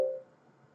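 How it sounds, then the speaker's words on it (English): A mobile phone gives a single short electronic beep at the start that fades quickly into near silence. "That was just my phone."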